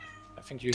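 A pet cat lets out a short, near meow at the end of the moment, overlapping a person talking.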